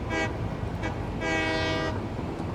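A train in the factory-building game Satisfactory rumbles past with a steady rolling drone, sounding short horn toots at the start and a longer horn blast midway.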